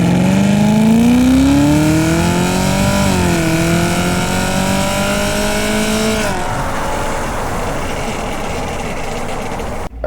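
A Chevrolet Camaro pulls hard through second, third and fourth gear, its engine note climbing steadily, dropping at a shift and climbing again before giving way to loud rushing road and wind noise near the end.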